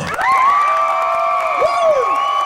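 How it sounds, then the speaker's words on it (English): An audience at a contestant judging cheers and whoops loudly, a sustained chorus of high shrill voices with overlapping shouts rising and falling, close and dense. "You guys clap for the winner."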